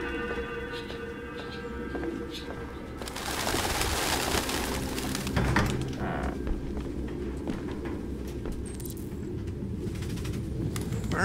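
Pigeons cooing in the video game Detroit: Become Human, low soft calls repeating under a steady ambient bed with a louder swell midway, no talking.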